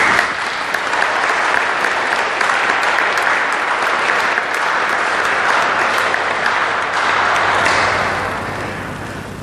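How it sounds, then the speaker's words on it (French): A church congregation gives loud, sustained applause at a Holy Trinity celebration in the Sainte Thérèse church in Keryado, a dense, even roar of clapping filling the room that fades slightly at the end. "On dirait même qu'ils en demandent un autre, tellement ils applaudissent fort"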